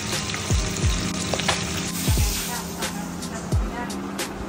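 Bengali fish chochchori cooks in a pan with a continuous loud sizzle, with occasional stirring and clatter and intermittent background noise.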